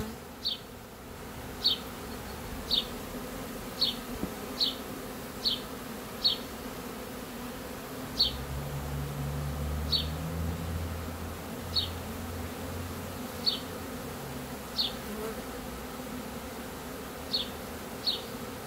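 Honeybees buzz steadily while a hive is being relocated, with a low droning hum and repeated short sharp ticks or taps recurring throughout, no talk.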